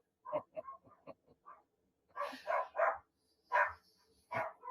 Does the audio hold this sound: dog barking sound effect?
yes